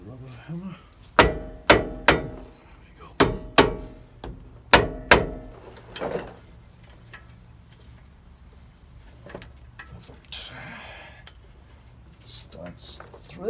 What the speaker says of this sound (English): A rubber hammer.